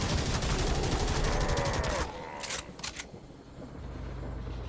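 Rapid reflex gunfire from a shotgun-style weapon in the shooter Necromunda: Hired Gun, a loud fast stream of shots for two seconds, then a few scattered sharp reports fading into low ambient rumble.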